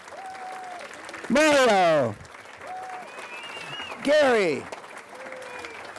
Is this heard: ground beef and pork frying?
no